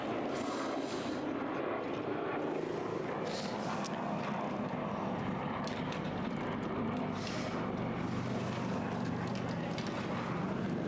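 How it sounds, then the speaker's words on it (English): A helicopter passes overhead at a rowing head race on the river, its broad rumbling drone steady and fairly loud throughout, with no talk over it. "Helicopter overhead there."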